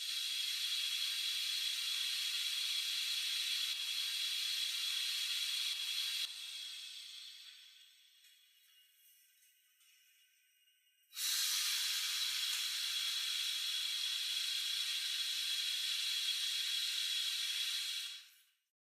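Suction on an anaesthetic machine switched on with the tubing occluded: a loud, steady, close hiss that drops away for a few seconds, then resumes at full strength before cutting off abruptly.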